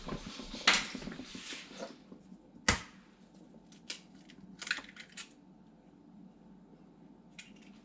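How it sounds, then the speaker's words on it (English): Two eggs cracked for a French omelet: sharp taps of shell against a hard edge, with a loud crack near the start and another a couple of seconds later, then smaller clicks and kitchen clatter in a quiet room. "Crack 2 eggs"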